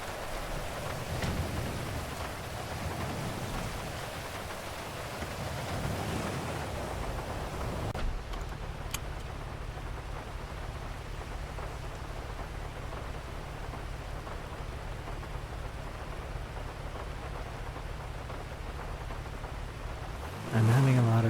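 Steady rain in the video game GTA V, a continuous hiss of falling drops that thins to a softer, even patter partway through, with a low engine-like hum underneath and no talk.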